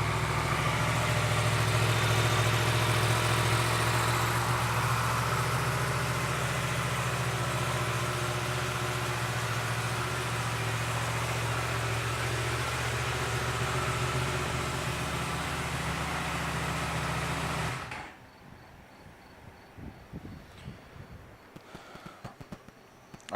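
A 2018 Yamaha MT-10 motorcycle engine idles with a steady, loud, close drone that cuts off abruptly near the end, leaving quiet background.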